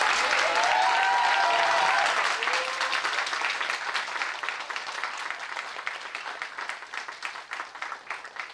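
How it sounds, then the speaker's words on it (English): Audience at a summit in a Bhopal hall applauds an award recipient, dense continuous clapping that starts full and gradually loosens into more distinct, scattered claps; a brief voice sounds faintly at the start. "A big applause for Dr. Vikas Gupta."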